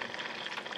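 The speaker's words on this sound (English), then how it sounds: "there's 3 or 4 pieces of alligator, and it is frying up nicely." Alligator pieces sizzle and crackle steadily in hot oil, a soft continuous frying hiss.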